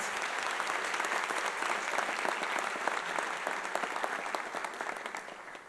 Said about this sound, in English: Another round of applause to our parents and families